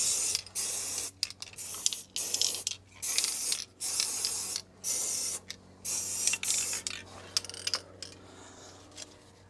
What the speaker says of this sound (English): just spray the bolts here.